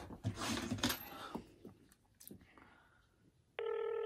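Scattered clatter and faint rustling give way to a sudden electronic telephone ring tone that starts abruptly near the end and holds steady.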